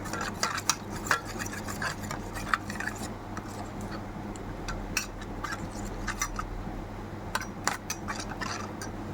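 A spoon scrapes and clinks in a pan, stirring a tempering of cumin, ajwain, asafoetida and curry leaves for a yogurt cluster bean curry; the stirring taps come in irregular bursts over a steady low hum.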